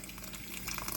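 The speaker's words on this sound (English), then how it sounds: "This is boiled water from the kettle." Boiled water from a kettle pours into a pan in a brief, soft, steady splashing trickle.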